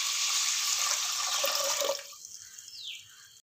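Water poured into a pressure cooker holding washed rice for milk payasam, a steady close splashing rush that stops near two seconds, leaving a faint trickle and drip.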